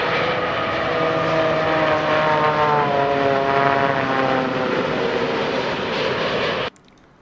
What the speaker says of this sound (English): Here is another 787 landing with the ram air turbine deployed, and you can hear the same sound in this also.